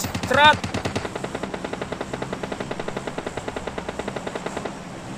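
Rapid automatic gunfire in PUBG Mobile, a fast steady stream of close shots lasting several seconds, with a brief voice-like burst at the start.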